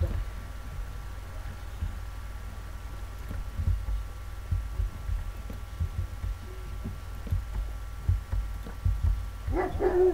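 A small dog in Minecraft gives soft, short barks and yips, quiet at first and then clearer near the end, over low thudding game ambience and hum.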